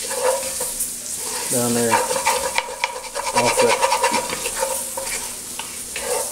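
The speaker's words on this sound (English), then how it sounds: "when you cook that flour in there, it picks up all those flavors" Flour cooking in sausage fat in a pot for squirrel jambalaya, with a spoon scraping and stirring through a steady sizzle; someone talks over it at close range.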